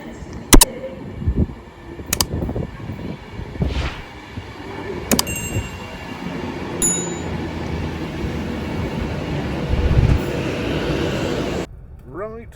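A train rolls along the rails with a low, continuous rumble, broken by sharp clanks and metallic knocks from the carriages, ending in a brief near-silence and a faint rise.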